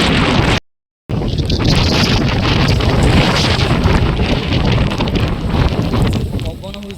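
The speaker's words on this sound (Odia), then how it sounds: "ପବନ ହେଉଛି, ଦେଖନ୍ତୁ" Strong wind blowing across a hilltop near Lohagad during the rainy season, a loud, steady roaring buffet on the microphone that fills the whole stretch apart from a brief cut near the start.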